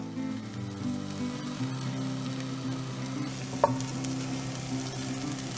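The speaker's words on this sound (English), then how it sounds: "Allow the butter to melt" Salted butter melts and sizzles in a pan with a steady, even frying hiss, a low background hum beneath it and one brief clink partway through.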